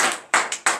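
A church congregation at a morning prayer service in Benin claps in acclamation, three short sharp bursts of hands in quick rhythm, close and fairly loud.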